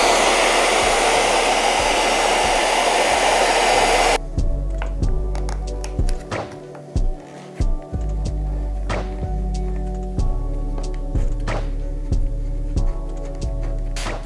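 A heat gun blows a steady, loud rushing hiss over 3M DI-NOC carbon fiber vinyl wrap being applied to car interior trim for about four seconds, then cuts off, leaving scattered taps and soft thuds of handling.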